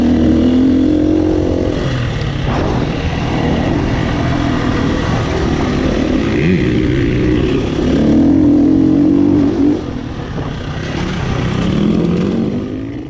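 Suzuki RMZ250 dirt bike ridden around a motocross track, its engine droning loudly and continuously with repeated revving surges and rising pitch sweeps as the rider accelerates, no talking.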